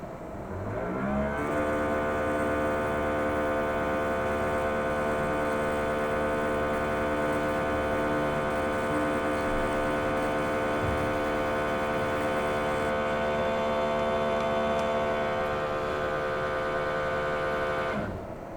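A large, heavy line printer runs with its top cover and door shut, giving a steady mechanical hum with dense tonal layers across most of its length, fairly loud and continuous, then cutting off near the end.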